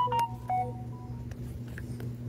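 Galaxy Note 20 Ultra phone sounding a short notification of a few quick electronic tones and beeps near the start, then quiet low hum.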